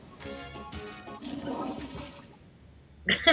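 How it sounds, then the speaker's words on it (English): A toilet flushes up close, a broad watery rush with gurgling that swells and fades over a few seconds, followed by a short loud burst of sound at the end. "Toilet flushing."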